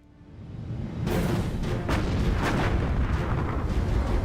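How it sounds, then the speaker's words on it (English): Battleship guns fire in the engagement between the Bismarck and HMS Hood, a loud rolling boom that swells and sustains as heavy rumbling thunder with repeated blasts layered on top. "the massive guns of Hitler's superweapon have obliterated the pride of the British Navy."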